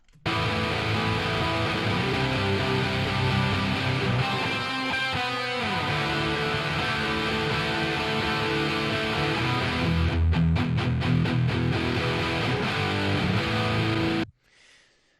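Heavy guitars soloed together, drenched in a Valhalla delay that is switched on and off, holding a thick, sustained wall of sound for about fourteen seconds before stopping abruptly.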